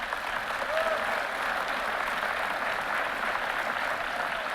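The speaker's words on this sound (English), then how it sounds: "give them a round of applause" A crowd at a high school college signing day applauds in a steady, even wash of clapping that runs the whole time without any clear voices.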